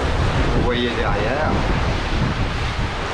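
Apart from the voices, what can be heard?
sea waves and wind at sea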